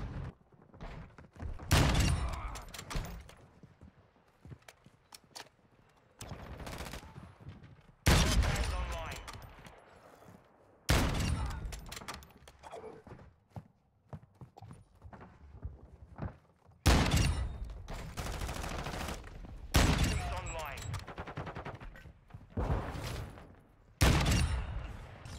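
Video game gunfire comes in loud, repeated bursts and volleys spread across a long stretch, separated by quieter gaps, with some speech mixed in.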